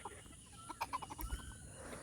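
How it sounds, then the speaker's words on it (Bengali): Laying hens peck at homemade feed indoors while a few soft, close clucks and short calls rise over a faint, quiet background with light pecking taps. "মুরগিরা সহজে খেয়ে নিচ্ছে"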